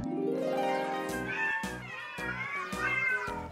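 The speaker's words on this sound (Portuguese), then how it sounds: "tudo que tem é um gato macio e fofo na mão" A soft, fluffy cat meows loudly up close, one long drawn-out meow followed by a string of shorter, rising meows in quick succession.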